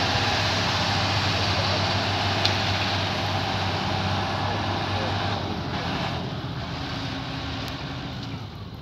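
A tractor stuck in mud in a rapeseed field during spraying runs its engine steadily, a loud continuous low drone with broadband rumble that eases slightly toward the end, with no talk over it.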